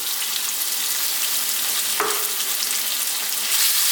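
Minced garlic and ginger with onions and salt frying over fairly lively heat for a lamb and potato curry, a steady dense sizzle with one brief scrape of stirring midway, close and loud with no talking.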